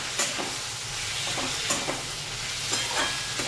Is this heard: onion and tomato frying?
yes